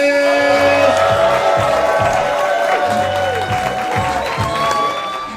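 A comedy club audience bursts into loud applause and cheers for comedian Jabari Davis, sustained clapping with a few whoops that begins to taper toward the end.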